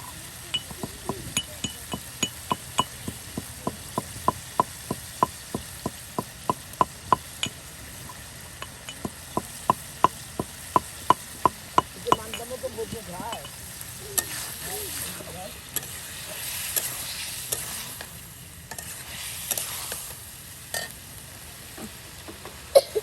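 Cumin and garam masala, dry-roasted together, pounded in a mortar with a steady run of sharp, evenly spaced thuds for about twelve seconds, then softer grinding and scraping.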